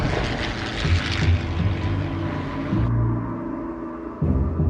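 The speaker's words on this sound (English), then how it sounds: "As the American bombers dived into action, they were pounced on by Japanese Zeros." Engines of WWII American bomber aircraft diving, a loud, droning propeller roar that swells and shifts in pitch, with no talk over it.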